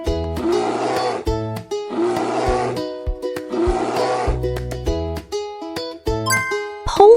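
Three long, rough polar bear roars in a steady repeating pattern, loud and close, layered over a bright chiming musical backing.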